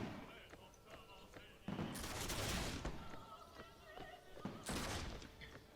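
Enemy troops in a historical-era strategy game battle fire volleys of muskets, heard as bursts of crackling gunfire and distant booming rumbles, with someone talking over much of it.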